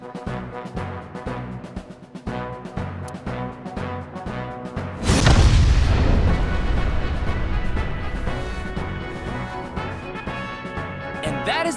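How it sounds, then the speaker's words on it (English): In the video game AI The Somnium Files nirvanA Initiative, a bomb hidden inside a body detonates, a sudden loud blast that erupts over the game's music and rumbles on for several seconds. "Sometime later, the burning fuse inside the body reaches the explosives."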